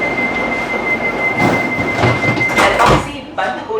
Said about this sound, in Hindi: 6:05 पे हमारी ट्रेन जोधपुर स्टेशन से शार्प डिपार्ट कर दी है।